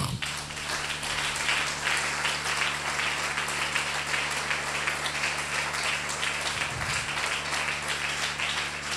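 A standing audience applauds and cheers loudly in honour of Patrice Emery Lumumba, with dense, continuous clapping that holds steady throughout.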